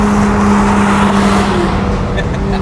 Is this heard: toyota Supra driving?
yes